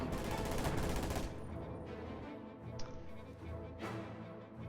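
Video game battle gunfire as an enemy fires on the headquarters: a steady, fairly faint wash of rattling shots that thins out midway, with one sharper crack standing out.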